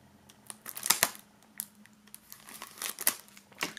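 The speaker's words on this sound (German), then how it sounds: "die beiden Tonträger sind hier noch in Folie eingeschweißt. Werden wir mal hier aus der Folie befreien." Plastic shrink wrap crinkled and peeled off two sealed CDs from a box set, with close, irregular crackling and tearing rustles in uneven bursts.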